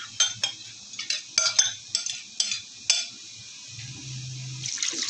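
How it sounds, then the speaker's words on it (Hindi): Water poured into a bowl of leftover food while cooking an achar chicken dish, heard as splashes and clinks of utensils against the dish in irregular bursts, close and moderately loud, with no talk. "ये जो बाउल में बचा है इसमें मैं थोड़ा सा पानी शामिल करूँगी"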